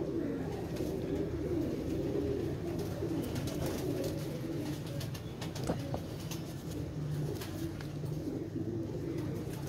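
Pigeons kept by a hobbyist coo softly in low, repeated rolling calls over a busy ambient background, with faint clicks and flutters, moderately distant.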